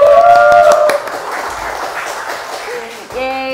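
Studio audience at an Indonesian health talk show clapping loudly for about a second, then fading under a woman's speech and light music.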